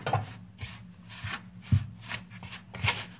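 Butter is rubbed by hand onto Tunisian tabouna bread, a soft rhythmic rubbing and brushing close up, repeated strokes roughly every half second.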